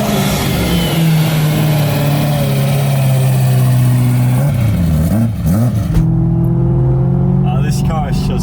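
BMW E90 M3 V8 drones steadily from inside the cabin while driving, a low continuous engine tone with a shift in pitch partway through, while someone talks over it.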